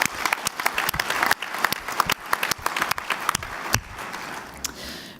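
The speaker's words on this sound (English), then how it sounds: "So let's join with a round of applause for all the new POs." Conference audience applause welcoming new participating organizations at the GEO-XIV opening session, uneven claps with sharp nearby hits, easing off toward the end.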